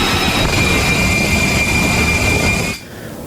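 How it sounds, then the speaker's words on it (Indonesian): Military jet aircraft on a carrier flight deck before takeoff: a loud, steady engine roar with a high whine running throughout, close by, cutting off abruptly near the end into quieter background rumble. "menunjukkan sebuah pesawat bergerak ke posisi dek penerbangan sebelum lepas landas"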